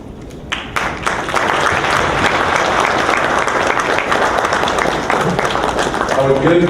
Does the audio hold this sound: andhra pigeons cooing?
no